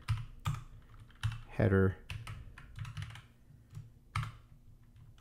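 Keys clack on a computer keyboard while CSS is typed into a web page file, a handful of scattered, moderately close taps and one brief rattling burst, mixed with someone talking.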